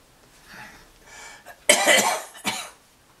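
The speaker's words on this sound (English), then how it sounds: "Sorry about the cough." A person with a lingering week-long cough coughs during a sculpting session: faint throat sounds at first, then a loud, close burst of harsh coughs followed by one more short cough, alone without talk.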